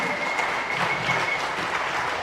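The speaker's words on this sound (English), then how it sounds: "let's give these boys a round of applause" A speedway crowd applauds the American riders at a four-team meeting, a dense, loud burst of clapping that fills the whole short moment.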